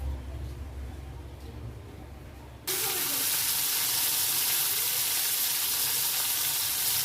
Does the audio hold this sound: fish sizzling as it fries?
yes